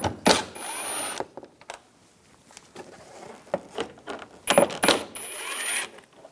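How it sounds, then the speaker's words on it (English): A T25 socket works screws loose from the front lower grille of a 2010-2014 Volkswagen GTI, with sharp metallic clicks and clatters in scattered bursts, a few tiny squealing tool whines, and quiet gaps in between. "Take these screws out, use a T25 socket."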